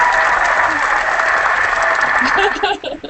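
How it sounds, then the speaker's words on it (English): An audience applauds warmly in a dense, steady burst of clapping that fades away at the end. "Let's get you one more round of applause."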